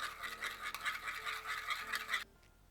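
A maple syrup, lemon juice, salt and pepper dressing is whisked briskly in a bowl, giving a quick, close scratchy rattle for about two seconds before stopping abruptly.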